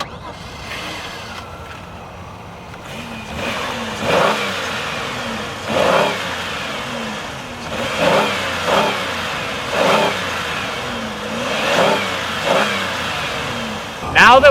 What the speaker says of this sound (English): Now I think we should hear how the engine sounds,